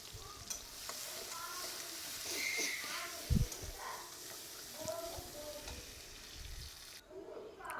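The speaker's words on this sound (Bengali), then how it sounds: "পেঁয়াজটা একটু লাল লাল করে ভেজে নেব।" Chopped onions frying in a pan for a spicy fish curry, steady sizzle under repeated stirring scrapes, close up, with a brief louder knock near the middle.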